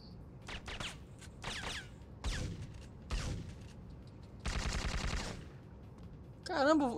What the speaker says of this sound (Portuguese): eu vou ficar aqui no meio dessa parada tomando tiro igual alvo mesmo?